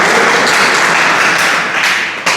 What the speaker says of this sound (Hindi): तालियां भाई।